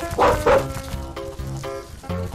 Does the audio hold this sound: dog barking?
yes